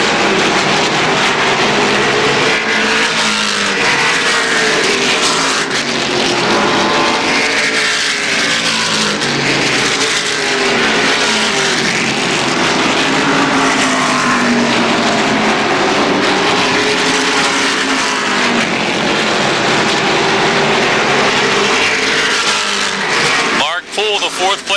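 Race cars lap Motordrome Speedway during the Napa 200, their engines roaring steadily and swelling as they pass, under continuous excited commentary from an announcer.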